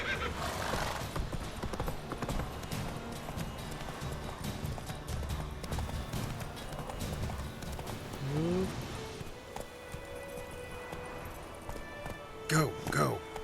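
Horse riding in The Witcher 3 on PS4 Pro, rhythmic hoof clip-clops on the ground with a neigh near the end, game ambience and a voice talking over parts of it.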